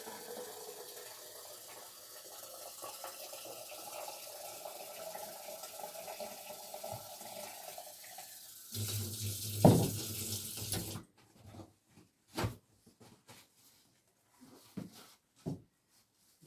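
Tap water filling a flower vase: a low trickle first, then a louder gush for a couple of seconds, followed by scattered splashes and knocks.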